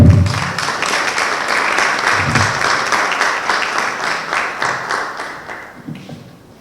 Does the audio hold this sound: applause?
yes